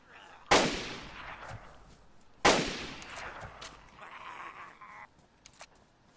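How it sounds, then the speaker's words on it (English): Two loud, sharp gunshots in the DayZ zombie survival game, spaced about two seconds apart, each trailing off in a long echoing decay, followed by fainter scattered game noises. "I'm shooting zombies."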